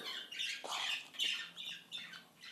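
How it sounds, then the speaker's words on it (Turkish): A pet bird squawks again and again in harsh, shrill bursts, loud and close, with short pauses between the calls and no talking. "Kuş biraz sessiz ol"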